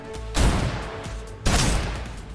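Two bursts of rapid automatic gunfire in the Snowbreak shooter game, the first about a second long and the second longer and trailing off, loud and close with no talking over them.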